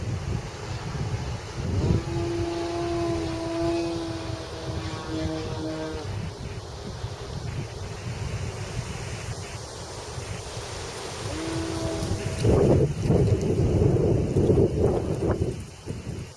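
Strong gusty wind buffets the microphone on a very windy day at a model airplane flying field, a loud continuous low roar and rumble that surges and swells throughout.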